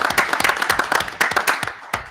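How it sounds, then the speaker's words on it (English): Scattered applause from a small audience at a school committee meeting, a brief burst of uneven hand claps that thins out toward the end. "And give you another applause."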